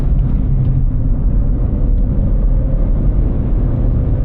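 Car engine pulling in second gear without full throttle, heard from inside as a steady low rumbling drone with road noise and no rise or fall in pitch.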